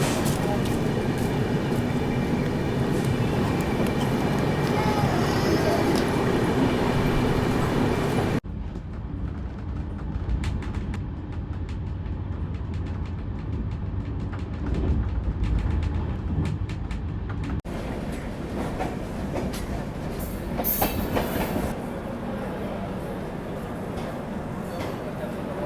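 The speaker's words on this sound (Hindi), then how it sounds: "ट्रेन निकल चुकी है हमारी।" An Ajmer–Sealdah SF Express train running, with a loud, steady rumble of the moving train that drops to a softer, even roar partway through, under a constant hum and a brief high squeal near the end.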